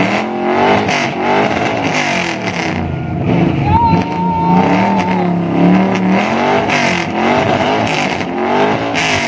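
A powerful 1969 V8 car engine of nearly 6 litres and 360 horsepower rumbles and revs up and down, loud and close, with people talking over it at a V8 sound contest.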